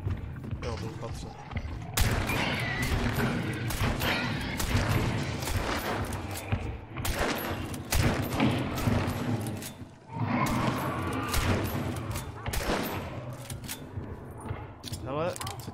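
Gunfire in Hunt: Showdown, a run of loud, sharp shots and bursts, some close, with a busy mechanical rattle between them and voices talking over much of it.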